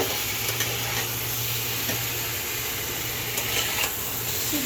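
Potatoes fry in a pan as they are stirred, with a steady loud sizzle, soft scraping strokes and faint clinks running throughout and no talking.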